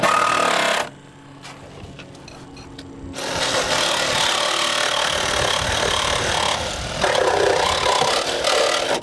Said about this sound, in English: So let's grab our Sawzall and cut this out.